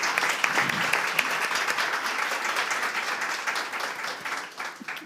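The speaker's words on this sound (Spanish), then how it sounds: "Aplaudan." Studio audience applause at a Dominican interview show, dense steady clapping throughout, loud and sustained before tapering at the very end.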